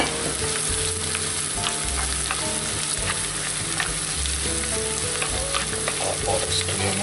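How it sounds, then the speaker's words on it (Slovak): Sliced pork neck frying with onions in oil in a pan, a steady, dense sizzle and crackle that holds evenly throughout with no talk. "Do spenenej cibulky pridáme nakrájanú krkovičku."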